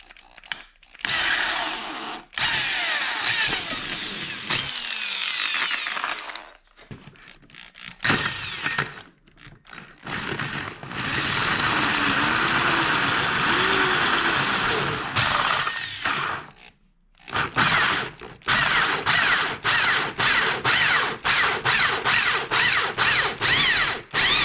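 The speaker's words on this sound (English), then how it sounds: "I will start with a pilot hole before going with the hole saw" During work on a Honda VTX1300 motorcycle, a power drill bores a pilot hole and then cuts with a hole saw, with close whirring bursts broken by pauses and a stretch of rapid ratcheting clicks.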